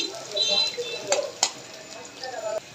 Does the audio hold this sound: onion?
yes